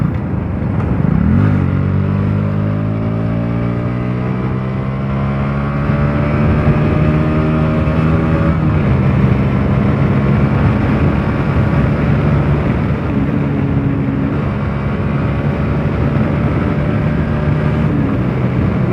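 Close, loud motorcycle engine on a morning road ride, the pitch climbing through gear changes as the bike speeds up, with steady wind roar over it.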